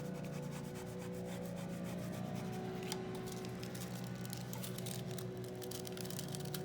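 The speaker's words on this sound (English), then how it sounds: "put your image down, or your foil on top of your image, and then you're gonna burnish it" A tool steadily rubs reactive foil laid over a printed image, giving a faint, continuous scratchy friction under a low background hum.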